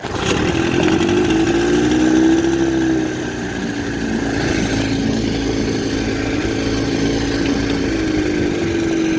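A 1960 Scott-McCulloch 12/14hp two-stroke outboard motor running on 24-to-1 fuel mix during a lake test, a loud steady buzzing drone close by that dips slightly in pitch partway through, with no talk.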